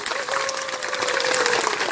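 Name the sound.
audience applause welcoming panelists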